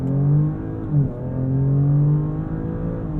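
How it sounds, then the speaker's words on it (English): A 2023 Audi S6's engine revs hard on launch control and holds a steady high drone, dips briefly, then surges on as the car accelerates, loud and close. "hold the brake, pin the throttle, then let go of the brake after you build up the revs"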